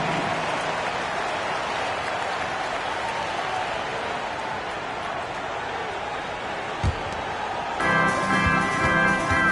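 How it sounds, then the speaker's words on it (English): Broad crowd applause and noise fill an arena steadily in NBA 2K23 basketball game play, with a brief thump and a swell of cheering near the end. "And a big round of applause for your tennis team."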